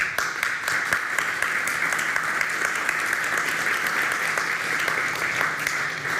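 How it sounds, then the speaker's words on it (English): Audience applause at the end of a conference talk, steady dense clapping from a crowd that holds at an even level for several seconds with no voices. "Applause for it."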